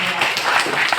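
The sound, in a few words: audience applause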